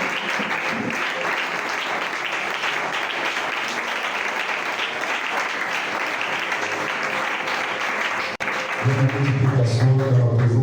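A church congregation breaks into sustained applause in praise of Jesus, a dense, steady roar of clapping that runs nearly unbroken, then a brief cut before louder clapping with a low rumble resumes.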